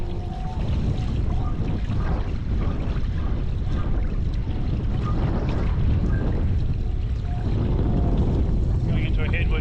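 Strong wind blowing into the microphone while surfing into a headwind on a 7'10 KT Dragonfly 2 surfboard, with a continuous loud roar and some water noise underneath.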